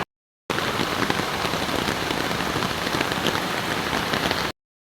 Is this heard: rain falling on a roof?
yes